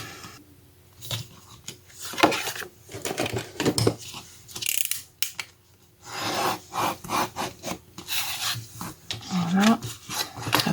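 A cutter blade slices through paper card while trimming a snowflake greeting card, giving close, repeated rasping strokes of uneven length with brief pauses between passes.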